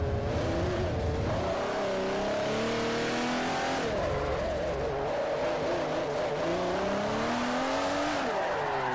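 A Jaguar race car's engine revs and strains continuously in Forza Motorsport 4, pitch rising and falling through gear changes, with tire squeal as the rear wheels slide.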